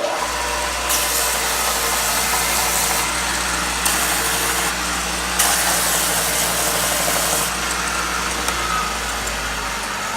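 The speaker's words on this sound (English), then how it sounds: "I use the belt sander and just cut down all my edges and get my sides, the way I want them" Belt sander trimming the edges of a leather holster, a steady, loud motor drone with a low hum underneath and brief surges in the grinding hiss as the leather is pressed against the belt, with no talking.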